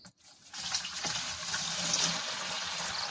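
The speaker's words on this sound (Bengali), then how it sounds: "চোখের সামনেই দেখো রস এখন ঢালছে।" Fresh date palm sap is poured into a container in a steady liquid stream that starts after a brief pause and continues evenly and close by, with no speech.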